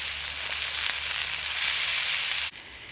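Pork shoulder fries in a titanium pan over a small wood-burning stove, giving a steady, close sizzle that holds even for a few seconds and then drops off abruptly near the end.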